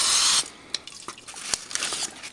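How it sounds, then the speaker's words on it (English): A can of spray adhesive hisses in a loud, steady burst close by, then gives way to faint clicks and crackles as leaves are laid down for a leaf composite plate. "I think we'll spray the whole thing"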